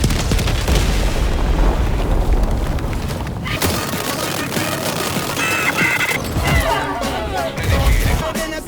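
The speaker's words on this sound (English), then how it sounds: "Throwing grenade!" A grenade blast in the video game Helldivers 2, several loud booming explosions and crashing impacts over continuous dense battle noise, with a brief lull before further bursts near the end.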